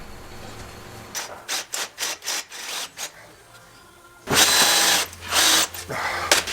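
A power drill whirs in a series of short bursts, then runs in longer, louder spurts close by, with brief pauses between each.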